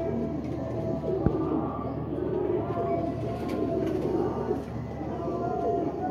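Flying pigeons coo low and repeatedly close by, over a steady background hum and a single sharp knock near the start.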